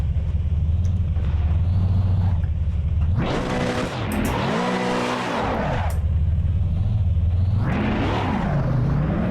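Race car in the Assetto Corsa Evo driving game spinning its wheels with zero traction control: a steady engine drone breaks into a loud revving burst with screeching tyre squeal, settles, then revs and squeals again briefly.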